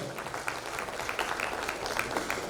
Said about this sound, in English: let's clap for everyone